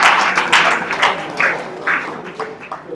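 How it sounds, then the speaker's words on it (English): Audience applause breaking out in a hall at a disability summit in Kaduna State, a dense burst of clapping that peaks early and then tapers off, with no voices over it. "Can we give him a big round of applause?"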